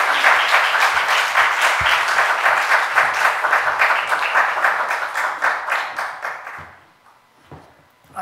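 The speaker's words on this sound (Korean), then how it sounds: "우리 한번 선교사님 나오실 때 보내주신 하나님께 감사의 박수 올려드리며 맞이하십시다" A church congregation breaks into sustained, dense applause to welcome a visiting missionary, the clapping steady and loud for several seconds before tapering off into quiet near the end.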